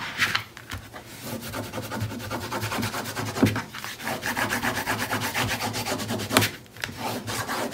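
Tape is burnished down by firm rubbing while an album base is built, a close scraping, rasping texture repeating in steady strokes with short pauses and no talk.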